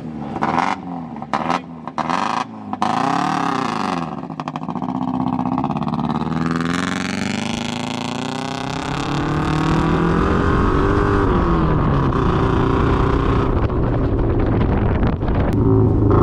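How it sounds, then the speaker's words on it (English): Mazda Miata turned off-road racer, engine revved hard to build RPMs, a loud close roar that blips unevenly at first and then climbs and holds in a sustained high drone, with wind buffeting the microphone. "Just slam it down to build up RPMs."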